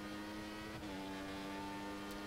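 A race car engine holds a steady high-pitched drone on a qualifying lap at Bahrain's Sakhir circuit in a racing game, quiet and continuous with a slight pitch dip midway.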